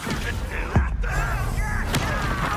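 A Confringo blasting spell from a Harry Potter video game bursts out as a couple of sharp booming thumps amid spell effects and speech, the blasts short and close.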